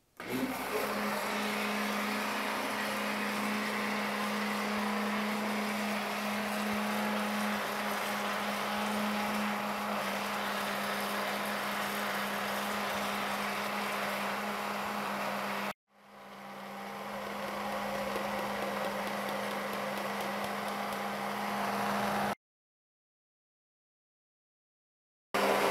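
A kitchen blender runs continuously, mixing batter with almond flour, producing a loud steady motor whir with a constant hum for about fifteen seconds, then briefly cuts out, spins back up and runs again before stopping into silence.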